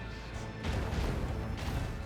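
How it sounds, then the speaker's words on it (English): Heavy macro cannon fire from a warship in the Warhammer 40k Rogue Trader video game: two loud, booming blasts rumble on top of a steady low roar. "Show them the fury of our macro cannons."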